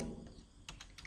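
A few quick, faint keystrokes on a computer keyboard while an Excel formula is typed, heard close and alone.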